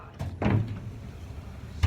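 A building door operating loudly, with a heavy mechanical thump and rumble near the start, a quieter stretch of low noise, then a sharp knock at the end.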